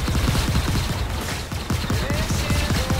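Rapid video-game gunfire rattles in dense bursts of sharp, closely spaced shots, loud and continuous with a low thudding body, together with whooshing sweeps and faint background chatter.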